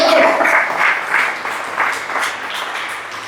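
Church congregation claps loudly during a Spanish-language service on the Passion of Christ, a dense burst of many hands that rises strongly then gradually fades, with a voice faintly under it at the start.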